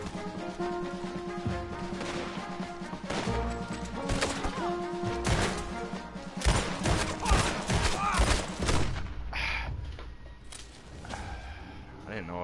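Gunfire in the video game Red Dead Redemption Online: repeated sharp shots and cracks scattered over a busy bed of game music and effects, with voices talking throughout.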